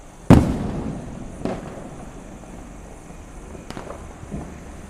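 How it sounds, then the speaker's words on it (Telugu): Diwali firecrackers burst outdoors, one loud sharp bang followed by fainter scattered pops at a distance, with no voices over them. "ఇప్పుడు మళ్ళా ఎవడో పేల్చాడు."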